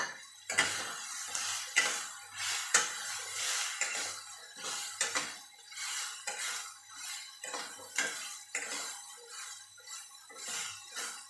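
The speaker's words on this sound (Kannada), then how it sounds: "ಒಂದು ಟೀ ಸ್ಪೂನಷ್ಟು ಜೀರಿಗೆಯನ್ನು ಇದರಲ್ಲೇ ಹಾಕಿ ಹುರ್ಕೋಬೇಕು" Cumin seeds, about a teaspoon, roasting in a pan for a fish (bangude) gravy, with a steady run of light metallic scrapes and clinks of a spoon against the pan, close and fairly quiet, without talk.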